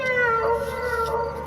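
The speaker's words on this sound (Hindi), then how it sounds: "सोमी ने अपनी आंखें बंद की तो उसे किटी के रोने की आवाज सुनाई दी।" A cat cries with a single drawn-out, plaintive meow that wavers in pitch and holds steady and clear for over a second.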